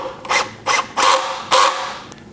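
A driver sinks pocket hole screws to fasten the top of a wooden tabouret side table, giving four short whirring, ratcheting bursts with brief gaps between them, close and fairly loud with no talking.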